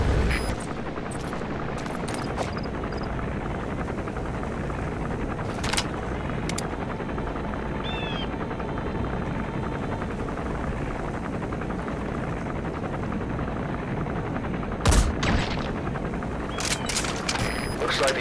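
A helicopter patrols in the Metal Gear Solid V: The Phantom Pain video game, a continuous whirring rotor drone with scattered sharp game sound effects layered over it.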